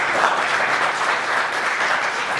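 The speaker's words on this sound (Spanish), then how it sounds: "gratos aplausos." Audience applause welcoming speakers to a vocational orientation talk on physics, steady dense clapping filling the room without pause, loud and sustained throughout.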